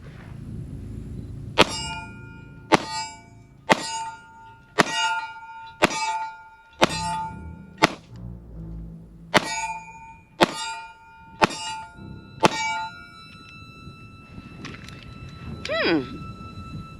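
A pistol fires at close range and each shot rings off steel targets, about eleven sharp bangs with bright metallic clangs spaced roughly a second apart, followed by a fading ring and quiet handling noise.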